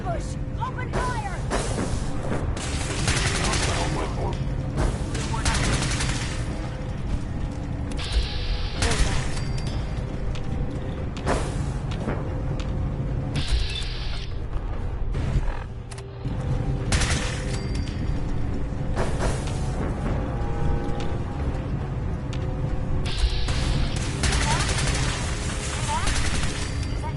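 Sustained gunfire in the video game Fallout 4 during a firefight: dense, loud bursts of rapid shots and impacts run nearly continuously throughout, with game voices shouting now and then beneath the shooting.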